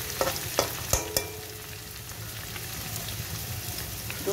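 Garlic frying in a pan while being stirred, a steady close sizzle broken early on by several sharp scraping clicks of the spoon, then settling into a continuous even fry.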